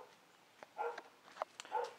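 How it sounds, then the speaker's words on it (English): A household dog barks at a cat in a few short, muffled woofs and yips, faint and somewhat distant in a quiet room. "There's my dog barking at the cat."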